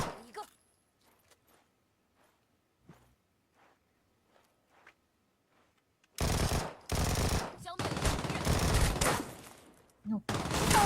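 Video-game gunfire breaks out in sudden loud bursts of rapid automatic shots after a long stretch of quiet footsteps and small clicks, with brief gaps between volleys.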